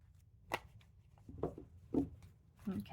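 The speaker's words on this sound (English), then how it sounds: "I just want to make sure I can kind of get these shuffled really well" Tarot cards shuffled by hand, a few short papery riffles and slaps in separate bursts, close and fairly quiet with a soft background hum.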